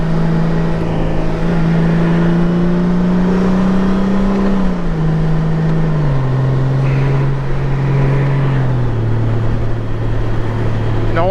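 A 2023 Honda Gold Wing motorcycle engine revving as it accelerates, a loud steady drone that climbs in pitch and then steps down between gear shifts, close and continuous with no talk.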